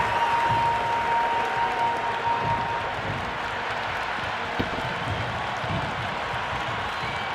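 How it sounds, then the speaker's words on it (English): A cricket crowd applauds a boundary four, a broad, sustained wash of clapping and cheering from a large stadium audience that stays steady and full throughout. "It's almost palpable, the excitement emanating from this crowd at the moment."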